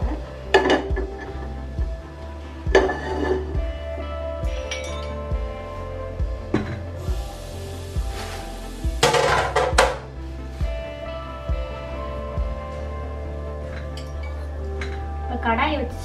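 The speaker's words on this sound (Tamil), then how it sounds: "கடாயை வச்சு ஸ்டவ் ஆன் பண்ணிக்கலாம்." An Indian kadai wok being set down and handled on a stove while making keerai bonda: scattered metallic clinks and clanks, some sharp and close, with a person talking in between.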